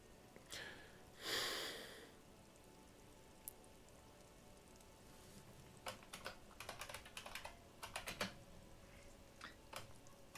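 Computer keyboard typing, bursts of quick clacks clustered in the second half after a quieter stretch with a brief noisy swell near the start, moderately close and fairly faint.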